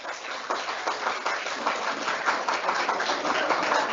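Audience applause at a medical lecture greeting a pediatric tuberculosis talk, a dense, steady crackle of many hands clapping that holds at an even level throughout.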